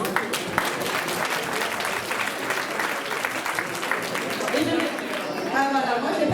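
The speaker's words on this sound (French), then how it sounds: "s'il vous plaît, applaudissez avec moi Patrick Dinosaure, tout son bureau et toute son équipe pour le travail formidable qu'ils font chaque année" An audience applauding at an association's celebration, sustained clapping from a crowd with a voice talking over it, growing slightly louder toward the end.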